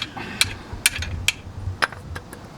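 Metal hammer blows ring out beneath a Datsun 240Z at a steady pace, about five sharp strikes with faint clinks between, close by in a quiet space.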